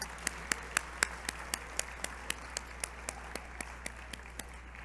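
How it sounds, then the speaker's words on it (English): Slow, evenly spaced claps at a gala anniversary event, a steady single rhythm of sharp, moderately close hand claps continuing for several seconds over a quiet hall with a low hum. "Another round of applause for these amazing kids."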